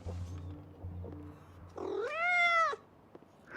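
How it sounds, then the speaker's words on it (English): Black cat meowing in the video game Life is Strange: a single drawn-out, rising and falling meow, clear and close, following a few softer low sounds. "Well, you heard a meow."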